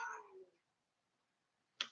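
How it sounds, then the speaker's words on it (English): An angry cat lets out a short, tense meow nearby, then silence, then a brief sharp hiss-like yowl near the end. "I'm making the cat angry."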